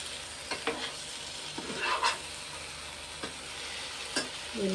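Water is poured into a hot pan of stuffed brinjal curry, giving short bursts of sizzling and stirring scrapes, moderately quiet, with no voices.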